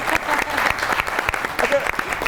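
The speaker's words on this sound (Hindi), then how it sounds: "फिर तो तालियां होनी चाहिए" Steady applause from a TV show studio audience fills the whole stretch, a dense patter of many hands clapping with some voices mixed in.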